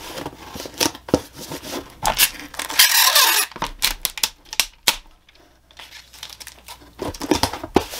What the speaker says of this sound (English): So I'm just folding the bottom of the box,